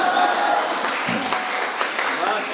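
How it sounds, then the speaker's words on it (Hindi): An audience at a Hindi comedy poetry event about the Delhi election claps in steady, sustained applause that fills the whole stretch, with a voice faintly audible under it. "तो ऐसा झूम के ताली बजाना है कि कवियों को भी लगना चाहिए कि वो सिर्फ पैसों के लिए नहीं आए हैं"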